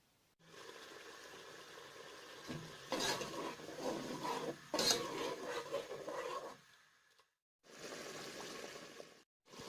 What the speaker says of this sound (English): Stir and allow to simmer or fry.